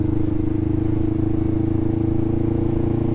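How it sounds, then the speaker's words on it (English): Kawasaki Ninja 500R motorcycle with a full aftermarket exhaust, heard close and loud as a steady, throbbing engine drone with a rapid pulsing beat throughout. "I am on the Ninja 500 today. This thing has a full aftermarket acrylic exhaust system."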